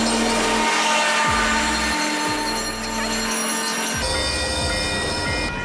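A train passes close by at a station in San Juan Capistrano, a loud continuous rumble of railcars with high, sustained metallic wheel squeals and clanking joints throughout.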